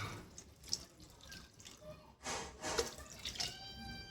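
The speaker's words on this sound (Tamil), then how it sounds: "நான் கொஞ்சம் தண்ணி ஆட் பண்ணிக்கிறேன்" Water trickles and splashes into a pot of boiling fish curry in short, uneven pours, quiet and close, with small drips and clinks in between.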